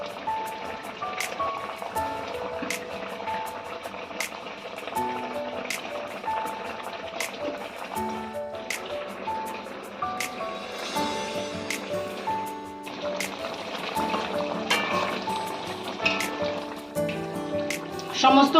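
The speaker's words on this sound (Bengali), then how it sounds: "ঝোল আমাদের ফুটে গেছে, এবার ভেজে রাখা মাছগুলো একে একে আমরা দিয়ে দিচ্ছি।" Fried parshe fish dropped one by one into boiling eggplant curry gravy in a pan, giving steady bubbling and simmering with brief small splashes and a faint tonal hum behind.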